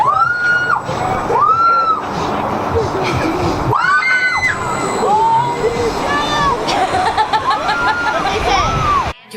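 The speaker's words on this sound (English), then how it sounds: "I want you to scream" A Las Vegas crowd screams and whoops in repeated rising bursts, loud and close, with babble and shouts between the waves of cheering.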